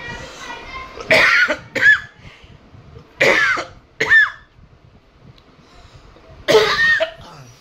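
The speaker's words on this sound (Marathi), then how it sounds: "खोकला आलाय भरपूर" A person with a scratchy throat coughs hard in three separate fits, each a cluster of loud close coughs, with quiet breathing and faint throat sounds between them.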